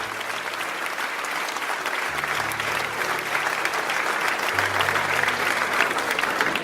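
Sustained applause from an audience fills the space before a speech, a thick even roar of many clapping hands with a faint low hum beneath, continuing without pause.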